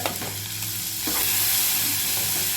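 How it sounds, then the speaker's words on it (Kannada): Onions frying in a pan of oil, a steady close sizzle with occasional stirring scrapes, growing slightly louder partway through, with no voices. "ಈಗ ನೋಡಿ ಉಳ್ಳಿಗಡ್ಡೆ ಚೆನ್ನಾಗಿ ಫ್ರೈ ಆಗ್ಬೇಕು."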